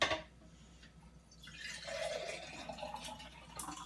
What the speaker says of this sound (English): We have all of this excess brine, which I'm now going to pour into